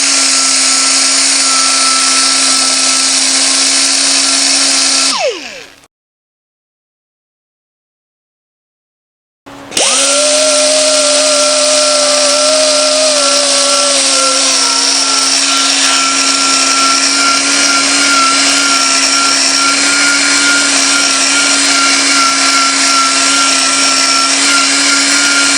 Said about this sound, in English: you can see I got right down to bare metal through that rust real fast